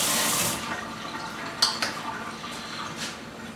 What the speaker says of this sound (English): Wash my hands a little bit.